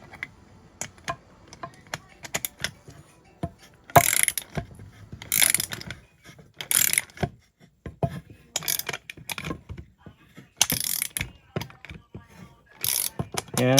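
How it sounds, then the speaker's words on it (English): A ratchet wrench being worked in repeated bursts of fast clicking, with pauses between strokes, while a crank bearing is seated during a Stihl 044 Magnum chainsaw rebuild, close and fairly loud. "So all I got to do is just keep wrenching on this."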